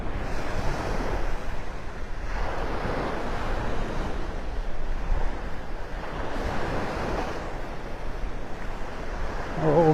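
Ocean surf rolls steadily onto a beach at Delnor-Wiggins in North Naples, Florida, with waves swelling and breaking in repeated surges every few seconds, loud and close, with some wind buffeting the microphone.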